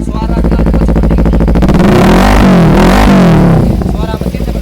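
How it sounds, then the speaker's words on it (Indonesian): Kawasaki Ninja motorcycle exhaust revving up loudly at close range, the engine note rising to a peak and falling back to a steady idle. "Suara knalpot seperti ini."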